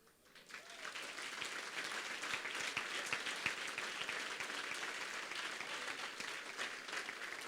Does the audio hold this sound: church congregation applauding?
yes